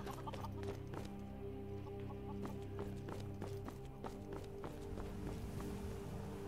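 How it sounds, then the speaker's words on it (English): Chickens clucking on a farm in the video game Skyrim, faint repeated clucks mixed with footstep-like taps and a steady background tone. "And he's also got a lot of chickens."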